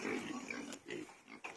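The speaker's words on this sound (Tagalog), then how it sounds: "Dito kami nagpapakain sa mga baboy." Pigs grunt and oink at feeding time on a farm near the house, several low squealing grunts in quick bursts, close and fairly quiet, with a voice faintly under them.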